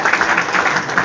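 A conference audience at a WordCamp talk applauds, a dense, steady wash of many hands clapping in a hall, brief and fairly loud.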